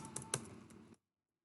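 Computer keyboard typing while entering text in an Excel spreadsheet: a few soft close keystrokes over about a second, faint, then silence.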